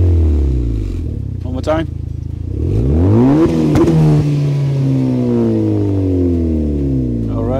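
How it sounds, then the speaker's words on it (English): A 2020 Honda Accord with a Rev9 aftermarket exhaust revs loudly and close, rising and falling through several throttle blips into a sustained high rev, with a brief spoken remark over it. "So that's what the exhaust sound like."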